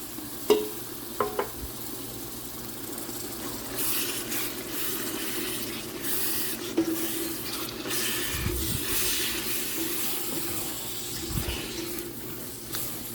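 Onions and tomatoes cook with fat and flour in a pot, giving a soft continuous sizzle broken by scattered clinks and scraping stirs, fairly quiet and with no talking.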